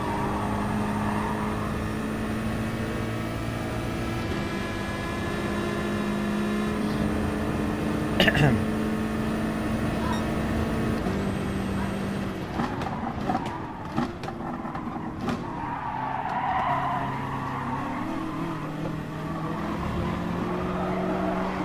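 Racing cars in Gran Turismo drone steadily uphill in a drag race, with sustained layered engine tones, a sharp spike near the middle and a few clunks later, under occasional talk.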